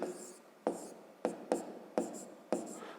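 A pen or pencil writes out a fifth-grade math exercise by hand, close-up, in short scratchy strokes separated by brief pauses, with faint tapping as each stroke begins.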